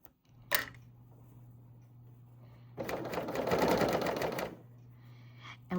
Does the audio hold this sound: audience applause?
no